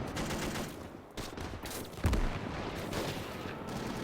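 Mortar blasts and gunfire in a WW2 Battle of Saipan video game, a fairly faint, continuous battle din with a few sharper booming impacts and crackling bursts of shots.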